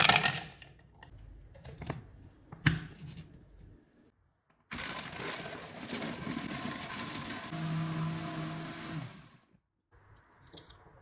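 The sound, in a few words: blender blending milk, dates, nuts and ice cubes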